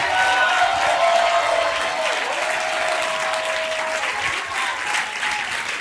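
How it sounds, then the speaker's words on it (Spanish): Congregation applauding in a church service, loud continuous clapping from many people, with a faint sustained tone running beneath the crowd noise. "Si tú le vas a aplaudir, apláudele con todo"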